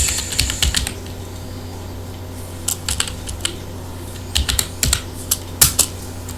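Typing code on a computer keyboard while creating an Angular component, close clicky keystrokes in quick irregular bursts with pauses over a steady low hum.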